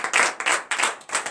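Church congregation clapping in praise during a morning prayer service in Benin, four quick bursts of several hand claps each, close and fairly loud, in an even rhythmic pattern.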